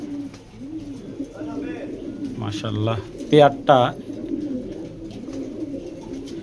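Pigeons coo softly at a pigeon farm in a low, repeated rolling call, with someone speaking nearby over them in bursts.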